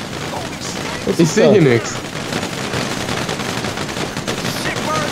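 Bursts of gunfire in Grand Theft Auto 5, a rapid crackling volley peaking briefly, with players talking over the game sounds.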